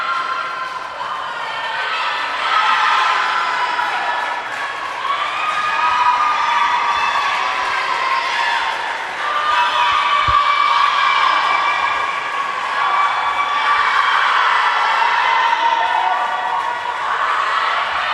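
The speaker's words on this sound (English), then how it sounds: "And there's still cheering on going on here" Steady crowd cheering and shouting at a girls' varsity swimming meet between Pal-Mac and Gananda/Wayne, a sustained roar with whoops rising and falling over about eighteen seconds, echoing as swimmers finish in lanes 1 and 2.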